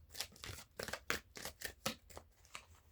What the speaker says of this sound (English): A couple more good shuffles.